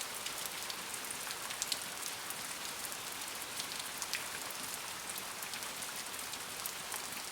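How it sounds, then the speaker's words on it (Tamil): Steady heavy rain pours down, a dense continuous hiss with scattered louder drops, no voices. "கொஞ்ச நேரத்துல ஜோர மழை பெய்யவும் ஆரம்பிச்சது"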